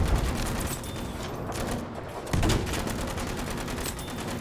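Machine gun fire in the video game Battlefield V, a loud, dense and continuous stream of rapid shots with overlapping battle noise and no pause.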